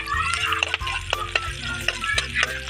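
Onion and garlic frying in a pan for Bicol Express, a steady close sizzle with irregular stirring scrapes and clinks throughout, no talking.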